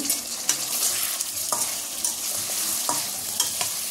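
Fish curry with cauliflower and potato frying in a pan, with a steady sizzle and repeated scrapes and clinks of a spoon stirring at close range, no voices.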